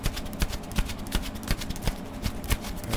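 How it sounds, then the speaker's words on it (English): Tarot cards shuffled in the hands, giving a run of soft, papery riffles and taps at an uneven pace with recurring slaps about every third of a second, close up and moderately quiet, with no voice over it. "So we'll shuffle just a little bit here for Sagittarius."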